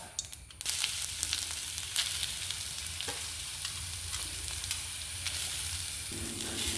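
Steady hissing sizzle of grated coconut frying in hot oil, with occasional stirring scrapes, continuous and close throughout.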